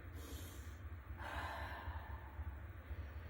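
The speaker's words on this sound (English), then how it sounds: "breathe as deep as you can and stretch out through the armpits. Do 4 big breaths here" Deep, slow breathing during a reaching child's pose yoga stretch: soft, close inhale and exhale air sounds over a low steady hum, with no talking.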